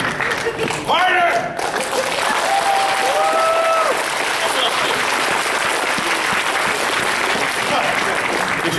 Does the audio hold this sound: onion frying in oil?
no